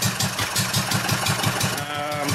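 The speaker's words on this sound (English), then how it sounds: "So yeah, that's the Wolsley engine." An old Wolseley engine runs steadily with a regular, loping low thump of firing pulses, close and loud, with no talking.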